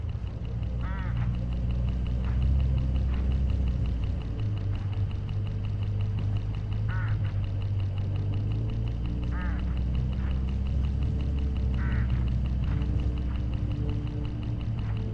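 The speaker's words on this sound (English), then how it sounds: "Look, hooded crows all along this road." Hooded crows call in the game Hitchhiker, a few short harsh caws spaced apart over a steady low rumble of a moving vehicle, moderately distant and not loud.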